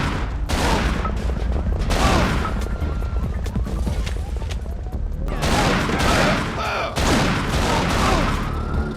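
SPAS 12 shotgun blasts from the Urban Chaos: Riot Response prototype, loud booming shots amid dense, continuous gunfire and crashing impacts across the whole stretch.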